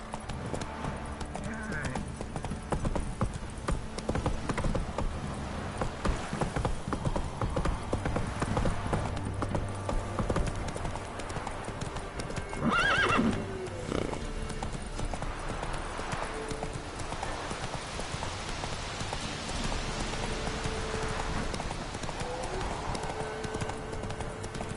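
Hooves of the horse Roach gallop in the Witcher 3 video game in a steady rapid clip-clop with game ambience, a brief whinny, and a voice talking over parts of it.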